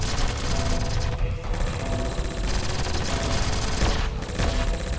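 Sustained gunfire in a Cyberman audio drama, dense continuous bursts of shots blending into a loud, roaring wall of sound that barely lets up throughout.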